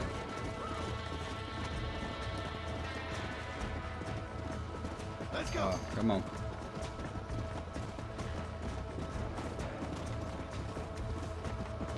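Horse hooves pound at a gallop through a Red Dead Redemption 2 stallion chase, a steady loud rhythm with a brief crashing burst midway while someone speaks over it.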